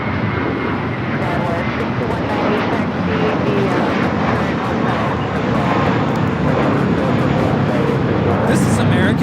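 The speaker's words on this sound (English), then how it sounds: "This is American Airlines 274 taking off to JFK on the A321" An American Airlines Airbus A321 takes off from LAX for JFK, its engines producing a loud, continuous broadband roar that holds steady the whole time.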